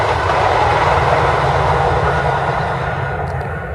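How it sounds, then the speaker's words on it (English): A metro train passes nearby with a loud, steady rumbling roar that eases off slightly toward the end. "here we have another metro passing"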